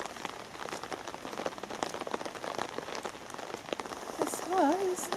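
Heavy rain patters densely and continuously on surfaces during a lakeside walk by an archway, with a brief whistled tone near the end.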